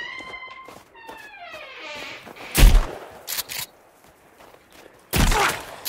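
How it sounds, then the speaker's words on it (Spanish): Gunfire in the survival video game Sons of the Forest: two loud, sharp shot bursts a few seconds apart, with lighter thuds and scattered in-game tones between them. "¿Me escucháis los tiros?"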